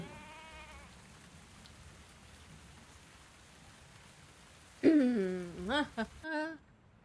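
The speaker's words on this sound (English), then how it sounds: "Now it's raining once again." Steady rain hisses in a video game throughout, with brief tonal voice-like calls rising near the end before cutting off.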